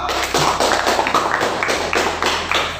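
Classroom students applauding a group of classmates: a steady run of irregular hand claps close by, lasting about three seconds with no talking.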